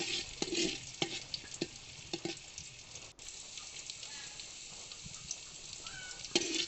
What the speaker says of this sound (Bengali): এখানে আমি কিছু পেঁয়াজ এবং রসুন কুচি দিয়েছি দিব কিছু শুকনো মরিচ দু তিনটা তো এটা কিছুক্ষণ নেড়ে চেড়ে একটু ভেজে আমি চালটা দিয়ে দেব